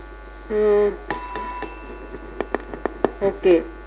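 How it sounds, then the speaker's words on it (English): A quiz buzzer bell pressed by a team at a medical GI quiz rings out as a bright, sustained tone, followed by a few short dings, with people talking before and after it. "I think team B has pressed the bell."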